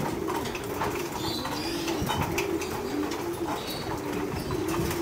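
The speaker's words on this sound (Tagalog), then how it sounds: "So yan na nga sila mga kalapatids," Pigeons coo in a loft aviary while feeding, with soft repeated low coos over a constant bed of rustling, shuffling and flutter close by, no talk.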